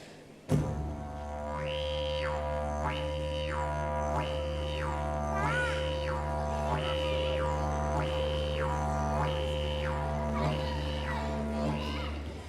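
Didgeridoo played while moving the tongue, at a school assembly show for young children: a steady deep drone runs throughout, with rhythmic repeated vowel-like 'wah' pulses, about eight evenly spaced swells, clear and close.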